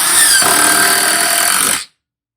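Festool TID18 brushless impact driver running in mix mode: a loud, steady whirring mechanical drone with a dense rattling hammer buzz, sustained for almost two seconds and then cut off abruptly into silence.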